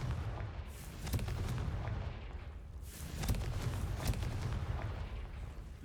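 Confringo blast spell in Hogwarts Legacy, a series of booming explosive bursts over a rumbling low background, with several sharp impacts spaced irregularly across the passage.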